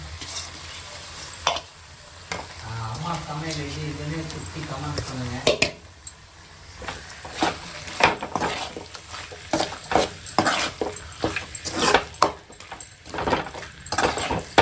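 Masala gravy with chili powder sautés in a pan, with a hiss of frying and rapid, uneven scraping and clinking of a spoon, loud and close, while a person talks briefly early on.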